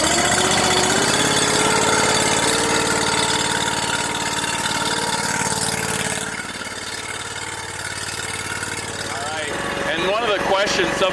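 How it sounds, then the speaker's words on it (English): Allwood wood splitter engine running steadily at a medium idle, loud and continuous, with a brief lower rev change midway, under speech-like chatter and some outdoor activity. "let's get the Allwood fired up and see how long this takes us."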